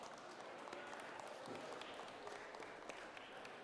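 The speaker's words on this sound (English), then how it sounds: "let's give a warm round of applause to Alliance number 5" Audience applause fills the hall at a FIRST Tech Challenge robotics qualifier in Washington, DC, a steady wash of clapping heard faintly and at a distance.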